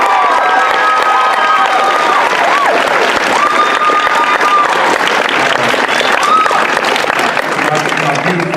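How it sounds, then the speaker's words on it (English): A packed convention crowd at a Kami Con 2017 panel claps and cheers loudly and continuously, with whoops, shouts and scattered voices layered over the dense clapping for the whole stretch. "So if y'all would be kind and give them a nice applause"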